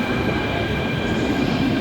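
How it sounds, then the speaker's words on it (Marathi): A Mumbai Metro Line 3 (Aqua Line) train rumbles steadily nearby at Marol Naka, a smooth continuous drone of rolling wheels and motor hum with no pauses. "मरोळ नाक्याला ही जी आहे ॲक्वालाईन थ्री मेट्रो आहे"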